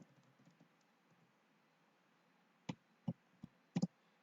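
A computer keyboard is typed on at a desk, a few sharp, isolated key clicks grouped near the end after near silence, close and fairly quiet, with no speech.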